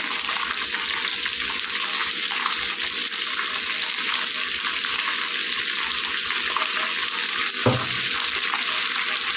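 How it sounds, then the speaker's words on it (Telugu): Ivy gourd pieces fry with salt in a pan, giving a steady, dense sizzle that runs throughout, with a single louder stirring clunk near the end and no voices. "బాగా కలిపేసుకుందాం, కలిసేలాగా."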